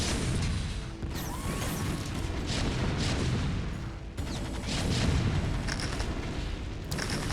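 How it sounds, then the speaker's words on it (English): Siege tanks pounding away in StarCraft: Brood War, a steady stream of deep booming blasts and rumbling explosions layered over dense battle noise, loud and continuous with brief dips. "Siege tanks doing the siegiest things they can"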